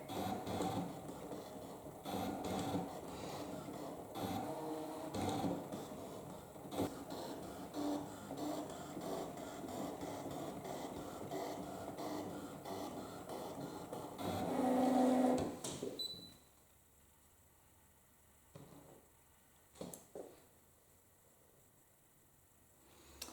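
Brother ScanNCut machine cutting vintage paper on a low-tack mat, a steady mechanical whirring with motor pulses and clicks for about fifteen seconds, then stopping into near silence with a few small handling knocks.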